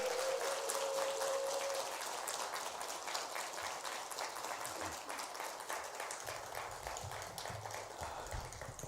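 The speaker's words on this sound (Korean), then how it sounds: "박수로 환영합니다" A church congregation claps to welcome a guest pastor, steady, full applause from many people throughout, with a brief sustained tone near the start and no speech over it.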